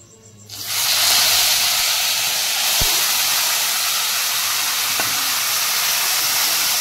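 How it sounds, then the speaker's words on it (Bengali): Marinated chicken dropped into a hot pan with whole spices and dried chilli, bursting into a loud, steady sizzling hiss after a brief quiet start, with a couple of faint knocks. "ম্যারিনেট করা চিকেনটা আমি দিয়ে দিচ্ছি"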